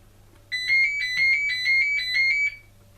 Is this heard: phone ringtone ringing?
yes